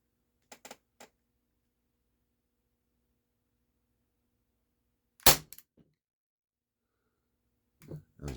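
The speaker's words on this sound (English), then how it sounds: "Gun is ready to shoot." A Walther P38 4.5mm CO2 BB pistol fires at targets, sharp isolated cracks spaced seconds apart with faint clicks between and quiet gaps, no talking.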